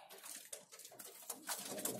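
White Madrasi pigeons coo softly nearby in a series of short, low murmuring calls with faint rustling, quiet and close.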